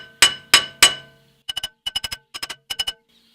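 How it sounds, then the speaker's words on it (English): Three ringing metal strikes on a Land Rover Discovery 2 rear axle, followed by quicker pairs and triplets of lighter taps, close up and otherwise quiet. "gentle hammering, just a little bit."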